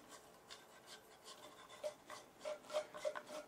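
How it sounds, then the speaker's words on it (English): Plastic batting tee top section being screwed into place, giving soft repeated rasping and rubbing twists, quiet and close, with a few brief sharper squeaks near the end. "this simply just screws into the top here"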